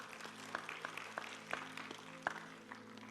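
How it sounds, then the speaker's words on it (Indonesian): A church congregation during a sermon gives scattered, sparse claps, a few distinct hand claps over a faint low hum, quiet and somewhat distant. "Nggak ada tepuk tangan buat Tuhan Yesus"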